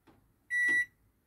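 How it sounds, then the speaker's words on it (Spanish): A microwave oven is set going with a single short electronic beep, followed by a quiet hum in an otherwise still kitchen. "Y así tal cual, directo al microondas."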